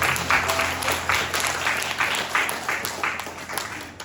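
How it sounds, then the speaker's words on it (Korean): A congregation claps in applause of praise after a prayer, a sustained, moderately loud patter of many hands that gradually thins out over a few seconds. "우리 하나님 영광의 박수 올려드리겠습니다"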